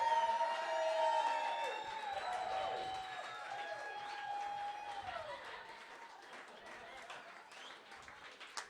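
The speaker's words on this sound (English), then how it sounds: "big round of applause for whoever the fuck Nathan Lund's calling himself" A comedy club audience applauds for comedian Nathan Lund, a steady wash of clapping and some cheering that gradually thins and fades, with faint tonal sounds above it.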